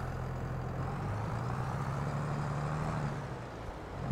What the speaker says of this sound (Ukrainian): це у нас середній трактор